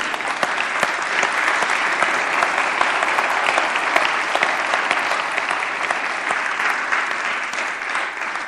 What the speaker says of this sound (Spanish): ¿No les dan ganas de dar un aplauso al Señor?